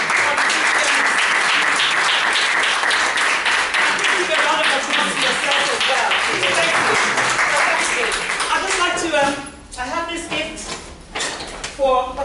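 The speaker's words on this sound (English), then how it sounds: "give a round of applause to all of our invited politicians" Audience applause at an open mic event on suicide and depression, sustained clapping that fades out, with a speaker's voice coming through toward the end.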